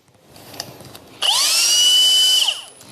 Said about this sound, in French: ce que je vous propose, c'est de faire plusieurs enchaînements de perçage avec la visseuse SF4